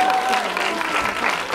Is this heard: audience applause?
yes